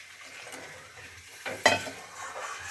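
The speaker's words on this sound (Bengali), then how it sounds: "এবার আমি একটু জল দিয়ে নেব।" Water poured into sizzling egg curry masala in a pan, a soft frying hiss with light stirring and utensil clinks, then a brief louder burst of sizzle as the water hits the hot spices.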